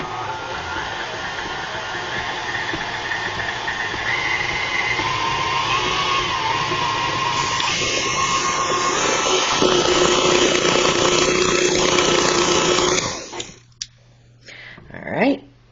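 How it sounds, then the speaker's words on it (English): Stand mixer fitted with a paddle beats cream cheese filling for a pumpkin roll cake, a steady close motor whir with changing pitch that stops abruptly near the end, followed by a few clanks. "We're going to go ahead and add our paddle on. We're going to give this a mix until it's mixed around"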